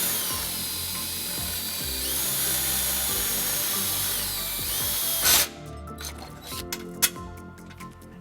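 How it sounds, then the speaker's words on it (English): Power drill boring a 3/16 inch hole into metal beneath the rear bumper of a 2012 Nissan Xterra, a loud steady whine for about five seconds that ends in a sudden break-through, followed by clicks and handling. "We're just going to drill the first hole using a 3/16 drill bit."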